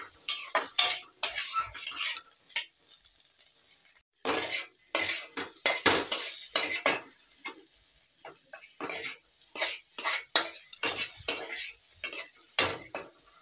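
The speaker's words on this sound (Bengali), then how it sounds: "এবারে এটাকে ভালো করে নেড়ে নেবো, ভেজে নেবো ভালো করে" A metal spoon clinks and scrapes repeatedly against a pan as lentils with turmeric and salt are stirred and fried for dal curry. The bursts are close and irregular, with only a faint sizzle between them and no talking.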